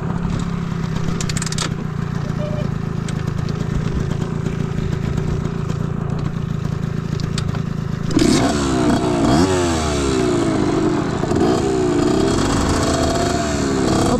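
A small Italjet or Rieju 70 scooter engine idles steadily, then revs up with rising and falling whines, close and loud throughout.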